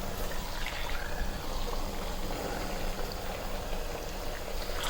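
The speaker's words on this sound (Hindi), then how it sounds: "यहाँ पे कुकिंग ऑयल मैंने एक प्यारी सी कढ़ाई में डाल के रखा हुआ है, गर्म हो चुका है। अब इसमें ये एक एक करके सारे पीस चिकन के शामिल कर दूँगी मैं" Chicken pieces fry in hot cooking oil in a karahi over a high flame, giving a steady, dense sizzle and crackle that holds at an even loudness throughout.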